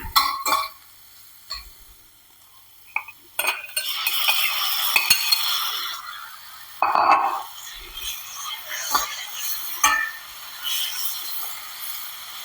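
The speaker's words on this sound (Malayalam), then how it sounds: "നമ്മൾ ഈ ഉടച്ചു വച്ചിരിക്കുന്ന വഴുതനങ്ങ ഇതിലേക്ക് ആഡ് ചെയ്ത് കൊടുക്കാം." Mashed roasted eggplant curry is stirred in a pan, with intermittent metal clinks and scrapes of a spoon over a soft sizzle, close by and with no talk.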